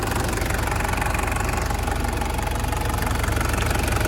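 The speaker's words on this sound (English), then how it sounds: "So there we have the legendary Toyota 3-litre turbo diesel engine." Toyota Hilux Surf SSR-X with a 3-litre turbo diesel engine idling under an open bonnet, a steady close, loud diesel clatter with a deep low rumble and constant knocking rhythm throughout.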